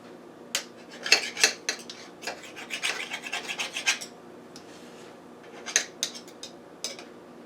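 A knife trims the edges of a peach cobbler pie crust, giving a run of close, quiet scraping and rasping strokes in bursts, with a pause and then a few final cuts.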